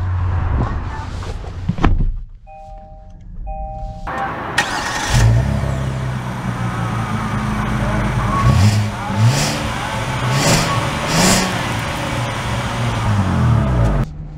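A 2024 Kia Carnival minivan starts and pulls away, its engine rising from idle into steady acceleration with swelling revs, heard from inside the cabin with a couple of brief chimes early on.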